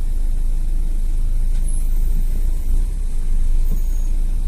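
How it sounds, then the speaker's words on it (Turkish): Steady road traffic in Istanbul, a continuous low rumble of cars, buses and trucks heard from nearby with a faint brake hiss, no talking over it. "Yok baba yok biz gene girdik trafiğe."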